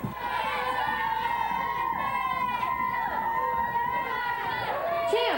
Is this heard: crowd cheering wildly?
yes